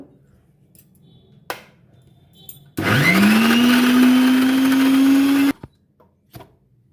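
A wet grinder grinding soaked urad dal into batter spins up sharply, then holds a loud, steady motor whine for about three seconds before cutting off, with quiet clinks before and after.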